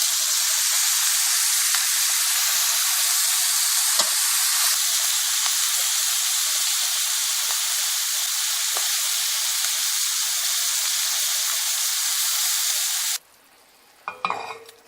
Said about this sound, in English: So we're gonna sear this on both sides here